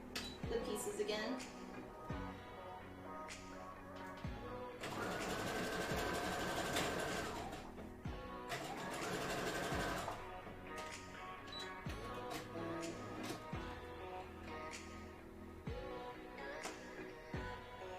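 A sewing machine runs a lightning bolt stitch on cosplay fabric in two sustained whirring bursts of a few seconds each, broken up by clicks and handling noises, with faint talking in the background.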